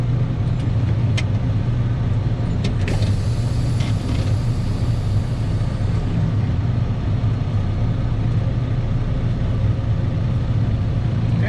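A truck's engine runs steadily at idle with a low, constant rumble, close and even throughout, as the driver shifts back into first gear during CDL training.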